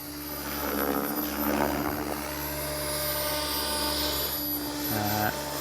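A Tron Gemini RC helicopter flies circuits, its steady rotor whine and buzzing motor holding loud and close throughout, with a brief pitch shift near the end.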